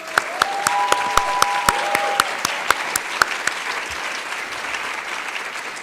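Applause from a conference audience for the delegation of Palestine at a closing session, steady and full, with sharp individual claps standing out over a dense crowd of clapping.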